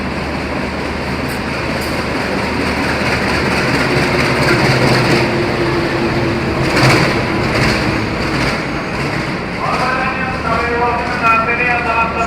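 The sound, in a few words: train at Gubeng station, Mutiara Timur new gen train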